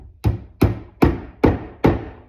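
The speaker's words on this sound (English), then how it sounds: "Take my hammer." A hammer taps a wooden plug snugly into its hole, five evenly spaced, fairly loud knocks with nothing else around them.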